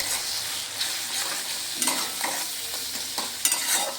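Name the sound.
stirring and frying ground spices in a pan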